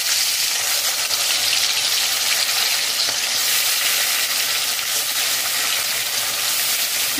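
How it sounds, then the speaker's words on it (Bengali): Marinated chicken sizzles loudly in ghee with whole garam masala, a dense, constant frying hiss close by with no talking. "ম্যারিনেট করা চিকেন দিয়ে দেব।"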